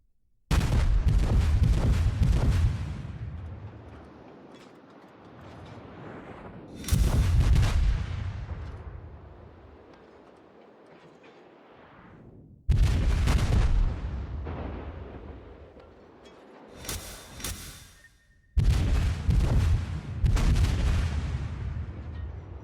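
Naval gun salvos from the destroyer USS Sims in World of Warships: four heavy, booming volleys spaced several seconds apart, each with a long rolling rumble that slowly fades before the next.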